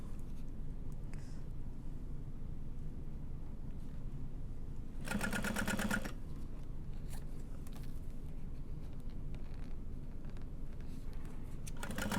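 A sewing machine back stitches a Siah Sidekick bag, giving one short, fast, rattling run of about a second against a quiet room.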